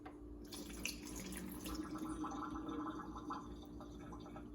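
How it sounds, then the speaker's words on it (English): Water poured from a glass into a kitchen sink, a quiet continuous splashing and trickling running steadily from close by with no voices. "remember to pour the water into the sink"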